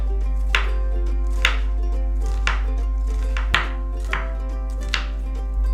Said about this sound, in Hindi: ये देखें, बातों बातों में हमने अपना जो ऑनियन है स्लाइस कर लिया।